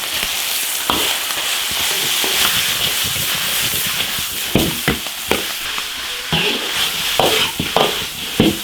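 Freshly dug bamboo shoots stir-fry with pork in an iron wok, giving a steady loud sizzle broken by repeated scraping strokes of the spatula.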